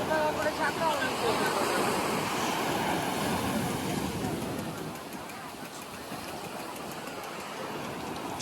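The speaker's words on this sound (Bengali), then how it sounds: "ঢেউগুলো দেখো শুধু" Sea waves roll in at Digha beach in a steady, loud roar that swells and eases slightly, with wind buffeting the microphone and faint voices in the background.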